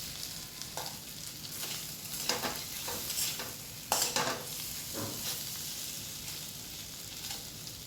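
Taro pieces frying over a low flame in a pan, stirred with repeated scraping strokes over a soft continuous sizzle, quiet and close, with no talking.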